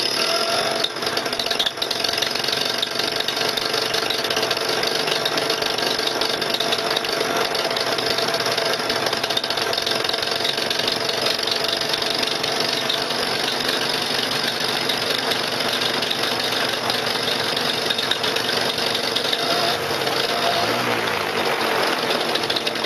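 A cold engine idles just after starting, a steady rough mechanical drone with a knocking, vibrating texture that holds constant and loud throughout, with no voices.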